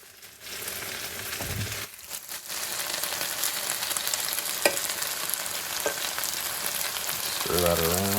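Butter sizzling in a frying pan with foraged morel mushrooms, a steady close crackle and hiss throughout with a few brief stirring scrapes.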